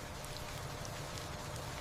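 Steady, even rain falling without pause, a dense soft hiss with faint scattered drops, no voices.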